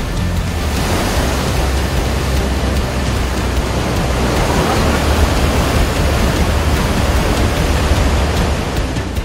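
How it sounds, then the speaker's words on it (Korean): Surging sea waves churning at the mouth of an Indonesian sea cave where bird's nests are harvested, a loud unbroken roar of turbulent surf with no voices. "그야말로 집어삼킬 듯 일렁이는 파도."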